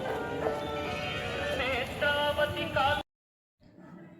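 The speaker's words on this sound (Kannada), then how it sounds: "ನೋಡ್ದಿವ ಕುದುರೆನ" A horse's hooves clip-clop on a visit to the Nanjangud temple town, mixed with steady tonal background sound for about three seconds before cutting out, then faint noise returns.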